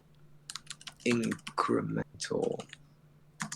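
Computer keyboard typing, with clustered clicks running under a man's close, steady talk.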